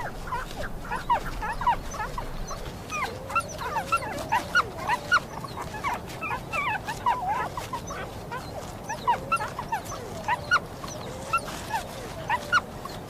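Young wild canid pups whimper and yip near their den in the Kashmir-Tibet wilderness, a string of thin high whines and squeals repeating every second or so, close and fairly loud, with no voices.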